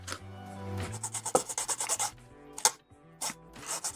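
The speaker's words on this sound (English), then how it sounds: "very light scrubbing." A 1/144 HG Bandai Gundam MS-07B Gouf model kit part being lightly scrubbed, giving short, close rasping strokes in quick bursts with brief pauses between them, crisp and dry, with no talking.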